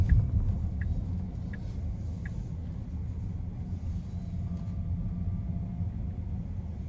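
A Tesla Model S Plaid circles a parking lot with a low, steady rumble of tires and road noise, close and even, with a few faint chirps early on and no speech.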